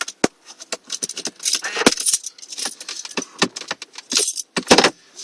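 Car keys jangle and clink close up while the electrics are switched on in a 2001-2007 Mercedes C Class, a quick series of bright metallic rattles with brief gaps.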